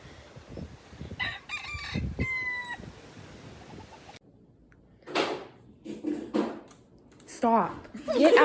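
Free-roaming chickens and roosters in Hawaii, with a rooster's crow ringing out early, then assorted clucks and calls while people talk over and between them outdoors.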